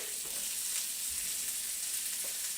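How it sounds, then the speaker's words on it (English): Onions and garlic frying in a hot pan for chicken noodle soup, a continuous bright sizzle heard close and steady throughout the short stretch, with no talking. "And we're gonna throw in our onions,"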